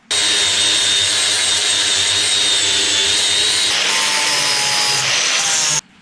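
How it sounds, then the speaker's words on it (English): Steady abrasive rasp of sanding on the wooden handle of a bushcraft knife made from a steel file, loud and continuous for several seconds before stopping abruptly, with no voices. "A little bit more sanding to do on the handle"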